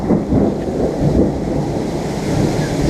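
Heavy rain pours in a steady broadband roar while low thunder rumbles through it, swelling and fading as rolling peals close by, with no talk over it.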